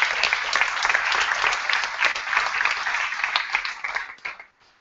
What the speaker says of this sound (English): Let's give them a quick applause